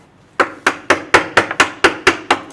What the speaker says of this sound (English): remove this material, then pare down to that line using the chisel on the flat